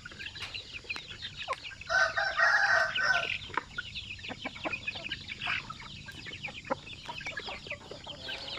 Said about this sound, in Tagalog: sa ganito kadami palang mga manok ang nandito